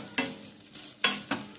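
Boiled pasta stirred into homemade butter in a pan, three quick scraping strokes of a spoon over a low, soft sizzle, close and fairly quiet, no voices.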